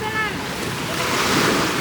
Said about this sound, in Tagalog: Ayan, ang dagat ng Siblayan.